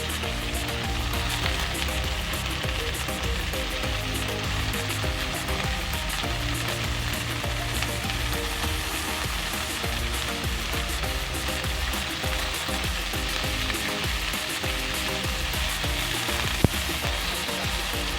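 Bean sprouts frying in a small pan, a steady, dense sizzle that holds loud and even throughout with no voices.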